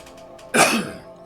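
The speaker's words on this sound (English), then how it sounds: "I had to cough there." One short, sharp cough from a man, close and loud, lasting under half a second before quiet returns.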